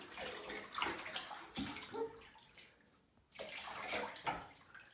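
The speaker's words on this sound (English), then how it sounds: "We're gonna start rinsing them off." Running water rinses six-week-old Aussiedoodle puppies in a bath, a soft splashing and pouring that swells and fades, pausing briefly near the end before resuming, fairly quiet and close with no talk.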